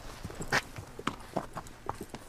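A horse walked on a hard surface during a hoof and gait check, giving soft, irregular hoof clops at a moderate distance with background room noise.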